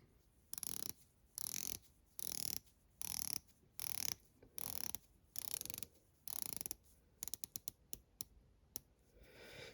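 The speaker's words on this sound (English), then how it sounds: "Very nice bezel action." Rotating bezel on a quartz dive-style watch being turned, giving crisp ratcheting clicks in bursts of about half a second, then a quick run of separate sharp clicks, close and alone.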